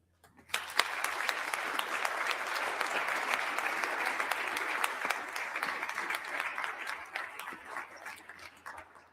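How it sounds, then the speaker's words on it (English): A crowd at a live event applauds a group of ambassadors. The clapping starts abruptly and holds steady for several seconds, moderately distant, then thins slowly toward the end. "let's just give a general round of applause to all of those ambassadors who are here with us today"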